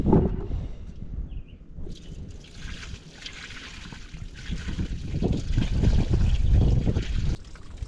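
Water trickles and gurgles steadily into a tractor being filled with plain water on a homestead, a continuous close liquid stream that swells louder toward the end.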